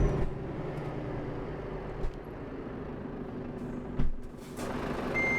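Reversing beeps from a Volvo truck in Euro Truck Simulator 2, a steady repeated electronic beep over a low idling engine rumble, with brief air-brake hisses partway through.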